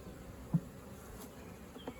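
Honey bees from a caught swarm buzz in a faint, steady hum with a couple of soft knocks, close but quiet, no voices.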